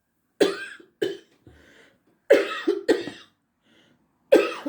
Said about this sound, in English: I don't know where that cough's come from